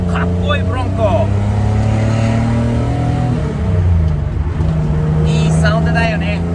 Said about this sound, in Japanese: はい、加速します。 エルガタサウンド。